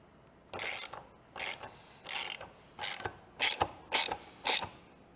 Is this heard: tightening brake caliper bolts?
yes